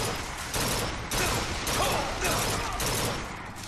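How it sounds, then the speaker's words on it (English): Rapid bursts of automatic gunfire in Bioshock Infinite as enemies shoot at each other, a continuous loud barrage of overlapping shots filling the whole stretch with no pauses. "But I think they're shooting each other."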